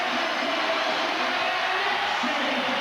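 An arena basketball crowd cheers for the Knicks in a steady, loud, roaring wash of noise with no distinct claps.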